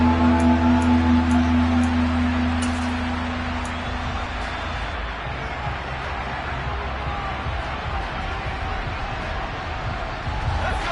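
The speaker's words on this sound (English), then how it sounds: "Here comes a big one as this crowd gets up making some noise" Stadium crowd roar in a Madden NFL video game, Ravens versus Chargers on third and short, a broad sustained swell of cheering filling the whole stretch with a low hum underneath.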